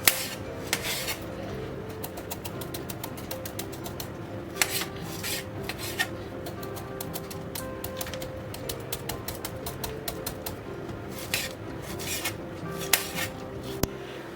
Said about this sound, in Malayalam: കത്തി വെച്ചിട്ട് നല്ല പോലെ ഒന്ന് മുറിച്ചു കൊടുക്കുക അതിനുശേഷം നമുക്കിതുപോലെ നൈസായിട്ട് അരിഞ്ഞെടുക്കാം